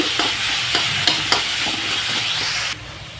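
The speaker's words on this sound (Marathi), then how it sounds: "कांदे मस्त भाजत आहे आपले कांद्यांना होऊन रंग यायला सुरुवात झाली" Onions fry in hot oil in a kadai with whole cardamom, a bright steady sizzle broken by several sharp scrapes and clacks of a spoon stirring, close and loud, ending abruptly.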